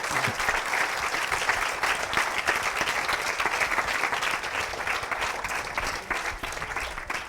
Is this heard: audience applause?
yes